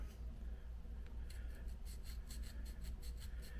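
Quiet rhythmic rasping of a sanding stick rubbed back and forth on wood of an HO scale model building, about a dozen short strokes over a low steady hum.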